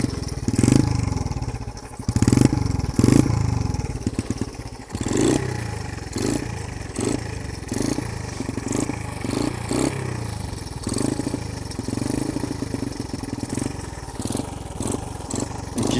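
A motorcycle engine with a poor idle sputters to life and settles into a loud, uneven idle with rhythmic clattering pulses, close by and heard alone.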